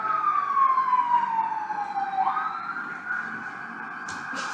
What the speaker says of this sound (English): Every time I talk, there's an ambulance